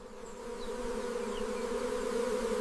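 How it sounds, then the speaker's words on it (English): A dense, steady drone of many wild African honeybees buzzing close by at a colony in a hollow tree trunk, a continuous hum that holds level throughout. "wild African honeybees have established a colony within this hollow trunk."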